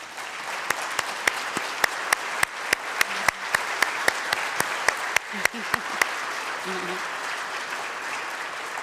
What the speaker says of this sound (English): if you can just give them a round of applause